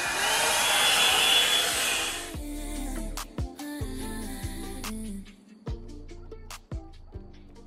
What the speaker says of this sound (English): now that my hair is all dry after using my blow dryer brush